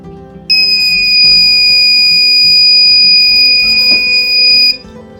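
A buzzer on an obstacle-avoidance school project car with an IR sensor sounds one loud, steady high-pitched tone for about four seconds, then stops.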